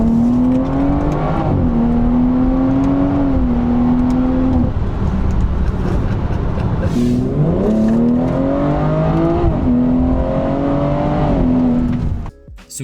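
A BMW F30 340i with a Stage 2 tune and new downpipe accelerates hard in Sport Plus, its engine note loud and close as it climbs through the revs, drops at a gear change and climbs again.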